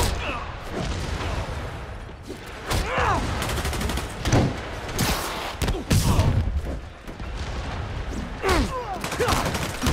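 Gunfire in the Spider-Man Remastered video game, several loud close shots and impacts scattered through a busy fight scene, mixed with grunts and other combat noise.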